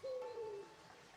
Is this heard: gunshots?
no